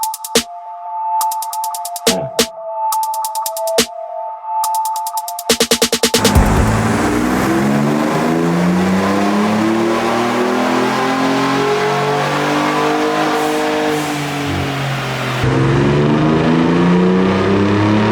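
A 2020 Ford Raptor EcoBoost fitted with very large aftermarket turbochargers roars through a sustained full-throttle dyno pull, its engine note rising steadily and loudly after a few seconds of short electronic beeps and clicks.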